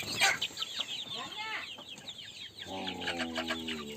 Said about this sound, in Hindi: तो ये मुर्गे हैं वो देख पा रहे हैं।